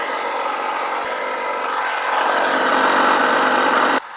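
A small portable air compressor inflates a tire while reseating the bead, a steady close motor drone with a faint rising buzz that cuts off sharply near the end.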